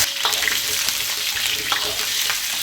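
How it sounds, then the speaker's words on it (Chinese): Ginger and pork trotters fry in hot oil in a wok with a loud, steady sizzle and faint scraping stirs, no talk. "姜下锅，猪脚下锅"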